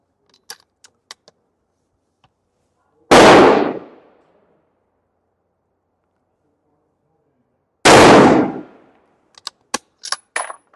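Two loud, sharp rifle reports, several seconds apart, fired while testing one load in two guns with a barrel tuner; light clicks and handling taps come before and after each shot.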